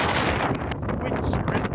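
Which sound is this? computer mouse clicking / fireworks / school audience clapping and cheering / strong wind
strong wind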